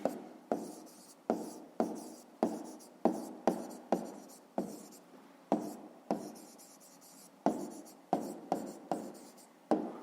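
Pen strokes on notebook paper while a math solution is written down, a steady run of short scratchy bursts with brief gaps, close and clear, with no voices.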